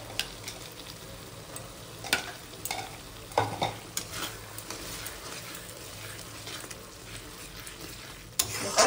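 Spice paste frying in a pan for Bengali dahi chingri, a prawn curry with curd, sizzling steadily and fairly quietly with intermittent stirring scrapes and a louder burst near the end.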